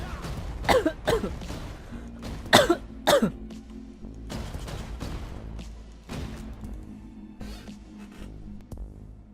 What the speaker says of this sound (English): Okay, sorry about the coughing.